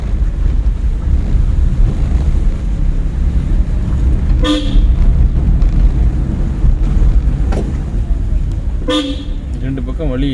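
A driving school car's horn toots twice during a lesson, short bright blasts around five and nine seconds, heard inside the moving car over steady road and wind noise.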